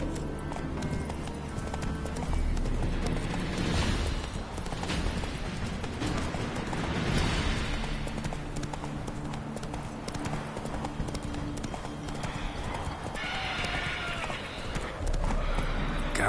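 Roach the horse trots in the video game Witcher 3, with a steady clip-clop of hoofbeats and a whinny partway through, while game sounds play underneath.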